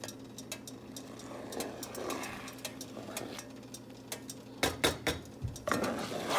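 A spoon stirs homemade caramel icing in a pot, with soft scraping and light clinks against the metal over a low, steady background hum and no talking.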